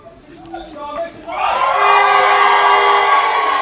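Crowd at a CCW wrestling show erupting into loud, sustained cheering and whooping after a brief stretch of talk, the roar building quickly and holding steady to the end.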